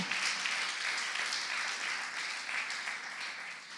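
A church congregation claps together during a Spanish-language sermon, a soft, steady, fairly distant patter of many hands that continues evenly without a break.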